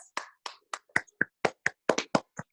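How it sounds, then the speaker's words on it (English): A small group claps in a loose, sparse rhythm, about a dozen separate hand claps or taps ringing out close and distinct against silence. "Give yourselves a big round of applause"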